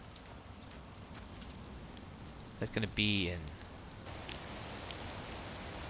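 Rain in the voxel survival game Rising World, a faint, steady hiss of falling drops that continues throughout, with a short stretch of talk in the middle.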